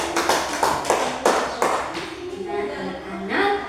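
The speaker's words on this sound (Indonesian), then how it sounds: "Tepuk tangan untuk Tasya" Schoolchildren in a classroom clapping for a classmate: several bright, sharp bursts of applause in quick succession, then a sustained voice-like tone near the end.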